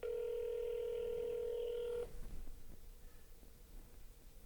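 A telephone plays a steady, loud dial tone for about two seconds and then cuts off, leaving a faint line hiss and a low murmur behind it.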